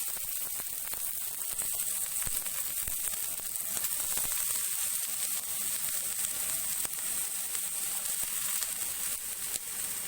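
Finely chopped large onions fry in half a cup of hot cooking oil, a constant bright crackling sizzle that holds steady and fairly loud throughout, with no talking.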